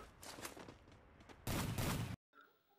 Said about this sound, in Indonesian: ada musuh kita tembak dan knock